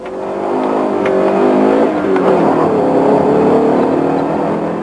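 Alfasud ti launching hard at the start of a hill climb, engine revving loud and close with rising pitch through the gear, sustained for several seconds.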